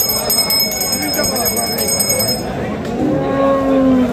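Cattle moo at a busy rural cattle market in Dinajpur where bulls are traded, with a long, low, rising moo near the end, while bells jingle and people talk loudly throughout.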